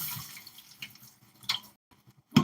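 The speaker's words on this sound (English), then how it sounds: "Rinse it in cold water." Onions rinsed under cold running tap water in a kitchen sink, with intermittent splashing and dripping, a louder burst near the end, and no talking.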